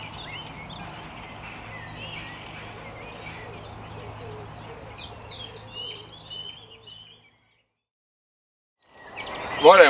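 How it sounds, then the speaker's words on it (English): Birds sing and chirp in a busy morning chorus beside a lake, steady for about seven seconds before falling silent, then a brief loud burst at the end. "Hopefully you can hear me over the birds singing"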